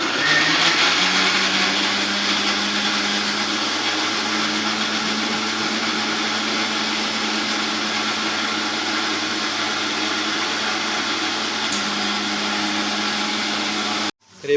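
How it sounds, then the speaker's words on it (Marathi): A kitchen blender whirs steadily while grinding onion and tomato into a paste, a loud continuous motor drone with a slight pitch dip partway through, running alone without talk before cutting off abruptly at the end. "इकडे बघा यश कांदा आणि टॅमॅटोची पेस्ट बनवतोय"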